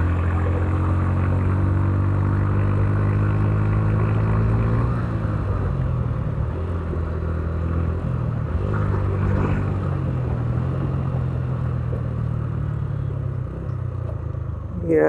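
A motorcycle on an Indonesian road holds a steady, loud engine drone throughout, with pitch rising and shifting as it pulls away and accelerates, plus continuous wind rumble close to the rider.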